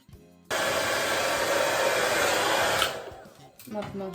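A hair dryer blows loudly at close range as hair is brushed out in a salon. It switches on abruptly, holds a steady roaring whoosh, then drops away and leaves faint handling noise.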